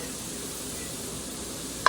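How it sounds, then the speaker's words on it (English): Soft, steady sizzling of shrimp frying in a pan, a continuous hiss with a faint clink near the end. "you can see before that it was sizzling pretty good"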